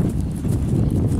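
A dapple-grey working horse, strong-boned and agile, moves through its gaits with a steady run of close hoofbeats on the ground, the rhythm continuous and fairly loud without talk.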